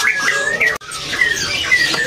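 White-rumped shama (murai batu), an MH non-gembung bird, sings in clear, bright whistled phrases, with a brief break near the middle, loud and close with no talk over it.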